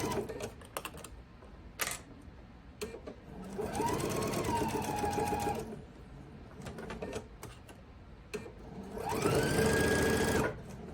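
Domestic sewing machine stitching a quilt block, running in two sustained bursts of steady motor whir with needle clatter, separated by quieter handling and clicks.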